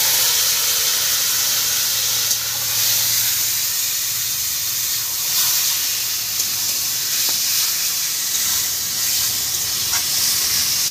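Taro leaves frying in a pan with onion and garlic already browned red, giving a loud, steady hiss and sizzle of steam that runs unbroken, with faint scattered crackles and no voices.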